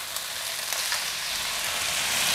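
Egg and softened vegetables fry in a hot pan for stir-fried Mama instant noodles, giving a steady, close sizzle that holds even throughout with no talking.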